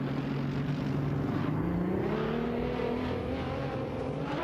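GT3 race cars, an Acura NSX GT3 and a BMW M6 GT3 among them, racing in a video game, with a loud continuous engine drone rising in pitch as they accelerate, dense and unbroken throughout.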